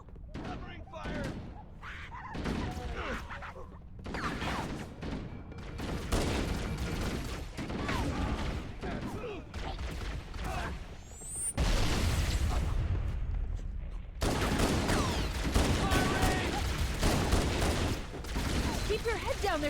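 Gunfire and explosions from the first-person shooter Halo: Combat Evolved Anniversary, aboard the Pillar of Autumn, with dense bursts of fire and booms running throughout and growing heavier and louder in the second half, mixed with game voices.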